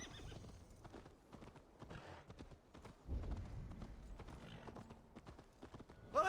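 Horse hooves clip-clop steadily through a medieval-style video game scene, with whinnies and neighs breaking in, sounding close and fairly loud, rising heavier midway and ending on a sharp burst.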